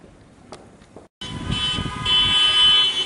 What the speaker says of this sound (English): this is how the French celebrate tying the knot. You drive around the town hooting your hooters